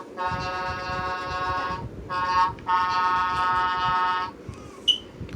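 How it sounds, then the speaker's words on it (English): Speedway toy truck's electronic horn honking in three bright, tonal blasts, the first long, the second short and the third longest, followed by a faint chirp. Close and fairly loud, no voices. "the honk noise."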